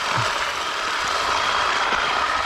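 A heavy, old Zanon olive harvesting machine runs with a loud, steady mechanical drone and a faint ratcheting clatter that continues unbroken throughout.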